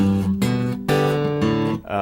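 Acoustic guitar phrase from a fingerpicked blues piece, with a bass thumb drag: a few ringing plucked notes in quick succession, close and clear, a short figure played alone.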